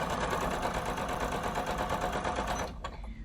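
A sewing machine runs steadily while chain piecing quilt blocks, its rapid even stitching loud and close for nearly three seconds before stopping abruptly, leaving only faint room noise.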